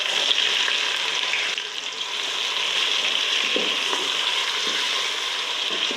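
Cloves, a cinnamon stick, almond flower and onion sizzle steadily in hot oil, a dense continuous frying hiss with occasional faint stirring knocks.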